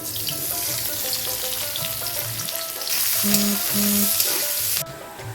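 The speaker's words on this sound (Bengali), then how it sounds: "পেঁয়াজটা ভাজা হয়ে গেছে" Chopped onion and paste sizzle in hot mustard oil in a pan with occasional stirring. The frying is close and continuous, swells louder partway through, then cuts off abruptly near the end.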